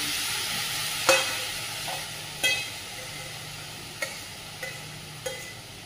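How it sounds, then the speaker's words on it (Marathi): Finely chopped dill leaves fry in a pan with garlic and ginger, a low continuous sizzle broken by several sharp scrapes and clinks of a spatula stirring at irregular intervals, with no voices. "त्यानंतर ही बारीक चिरून घेतलेली शेपू त्यामध्ये टाकून घेत आहे"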